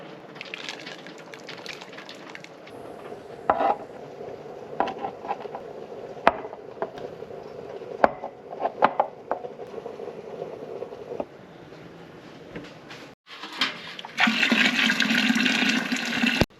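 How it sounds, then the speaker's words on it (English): Water runs steadily from a tap into the bottom of a pressure canner, filling it with a couple of inches, a close rushing flow with pauses and a louder gush near the end. "we went ahead and filled up the bottom of our pressure canner with a couple inches of water"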